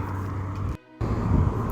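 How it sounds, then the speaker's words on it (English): Road traffic rumbles in a steady low drone, cut off by a brief dropout before the hum resumes. "Traffic."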